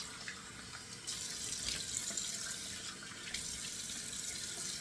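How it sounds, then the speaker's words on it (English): Cold water runs from a bathroom tap into a sink while someone splashes it onto a freshly shaved face, a steady faucet stream with louder surges of splashing water, close by and with no talk. "I'm just going to splash on my cold water and keep going."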